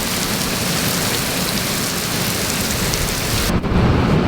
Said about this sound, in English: It just started pouring rain.